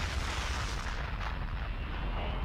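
A sustained, loud rumbling blast with heavy low-end roar, like a large energy explosion from the Dragon Ball Z Abridged Big Bang Attack, filling the whole moment with no pauses or voices.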